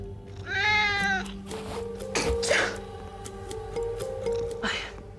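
A cat meows clearly and close by, one drawn-out harmonic call at the start, then fainter mewing and shuffling noises over a low indoor hum, with no speech.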